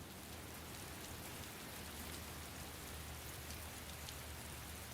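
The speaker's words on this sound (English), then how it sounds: "Also, it's raining" Rain in the visual novel Harmonia, a steady, faint hiss of falling drops that holds evenly throughout with no talk.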